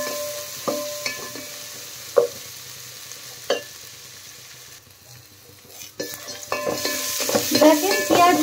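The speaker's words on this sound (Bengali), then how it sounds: "পেঁয়াজটা হালকা ভেজে নেব।" Chopped onion dropped into a pan of fried spices, with sharp spoon-scrape clicks and stirs at irregular intervals over a soft sizzle that swells louder and denser toward the end.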